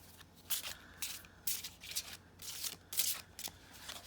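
Bursts of riffle-shuffling tarot cards recur about every second, crisp papery rattles up close with soft hand rubbing between them.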